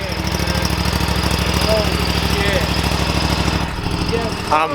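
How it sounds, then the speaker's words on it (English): A 2024 Scag V-Ride 2 stand-on lawn mower runs close by, its engine droning loud and steady with a pulsing throb throughout and a brief shift in tone near the end. "we're getting our first little runs with the mower"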